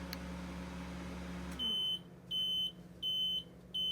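A microwave oven's hum cuts off after heating water, followed by three evenly spaced, high-pitched beeps, loud and close in a quiet kitchen.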